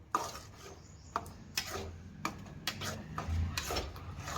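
Raw mango chutney stirred in a pan, a spoon scraping and knocking against the metal in several sharp strokes over a low rumble, close and fairly quiet with no talking.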